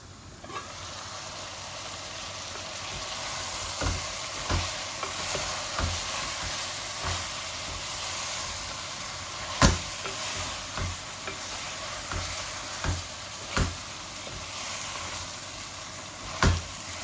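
Meat sautéing in a pan on a stove, with a constant sizzle broken by a spatula clattering and scraping in irregular knocks as it is stirred, no talking.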